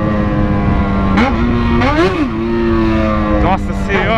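Yamaha XJ6 motorcycle engine with a worn clutch, idling loudly up close and revving sharply three times in quick swells, each rise in pitch settling back to a steady idle.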